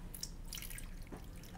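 Water poured into the reservoir tray of a wicking plant-growing system, a quiet trickle and a few drips over a low background hum.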